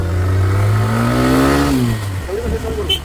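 A car engine labours uphill in first gear on a road in the Sahyadri hills near Khopoli, its loud drone rising steadily in pitch before easing off and dropping near the end.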